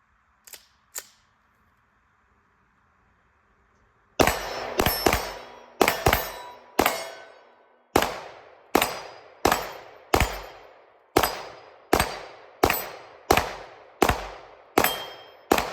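Jacob Grey TWC slingshots being shot, with two faint snaps and then a run of sharp, close, metallic cracks at a steady rhythm of roughly one per second, each ringing briefly.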